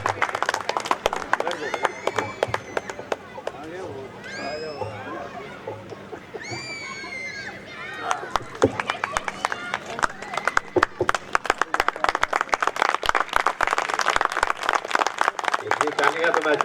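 Audience clapping at a Hindi comic poetry gathering in a township, starting as scattered, sparse claps with a voice speaking over them, then building into louder, denser applause from a modest crowd.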